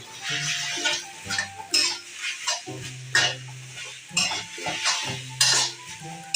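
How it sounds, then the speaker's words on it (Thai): Instant noodles with black oyster sauce and soy sauce are stir-fried in a pan, with a spatula scraping and clanking against metal in irregular strokes over a soft sizzle. Brief bits of background melody sound alongside. "ผัดเอาครับ แล้วก็ผัดต่อนะครับผม"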